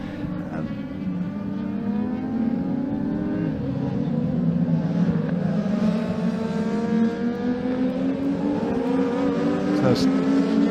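Rallycross race cars in a club championship round at Blyton Park race track run in a close pack, a loud continuous engine roar with shifting revs as cars pass, under an excited commentator's voice.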